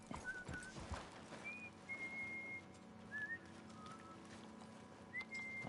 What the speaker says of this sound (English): I'm just moving my horsey down here a little bit.